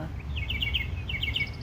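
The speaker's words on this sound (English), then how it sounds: "there's a mockingbird" A mockingbird sings outdoors in a backyard, two clear bursts of bright, repeated chirping phrases carried over a steady low rumble of background noise.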